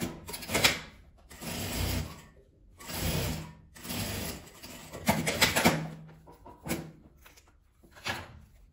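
A sewing machine stitches bias binding in short bursts, each run a rapid mechanical chatter separated by brief pauses, fairly close and with no talk.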